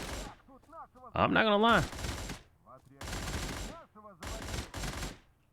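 AN-94 Abakan rifle with muzzle brake firing in a video game, several sharp bursts of rapid shots separated by short gaps, loud and punchy, with someone talking briefly between them.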